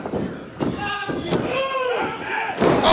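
At a 2016 Inspire Pro wrestling match between Keith Lee and Ricky Starks, a wrestler is slammed face-first onto the mat. The heavy thud lands amid crowd noise and lively commentary.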